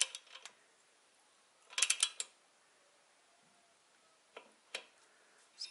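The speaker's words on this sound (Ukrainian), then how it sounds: "І тянемо, поки нас не спрацює динамометричний ключ." Torque wrench tightening a cylinder head nut on a D-250 engine, giving sharp ratcheting clicks in short bursts separated by quiet pauses, close and fairly faint.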